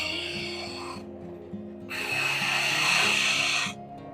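A RIDGID EB4424 oscillating spindle sander rounding over a wood edge: a steady motor hum with broadband rasping bursts as the workpiece is pressed to the spindle, loudest in the second half, close and alone.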